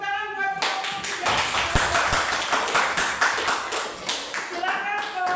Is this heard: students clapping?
yes